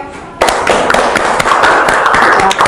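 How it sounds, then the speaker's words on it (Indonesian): A class of secondary school students in a biology lesson claps together after a short quiet lead-in, a steady, close burst of hand claps lasting a couple of seconds. "Kasih tepuk tangan ayo."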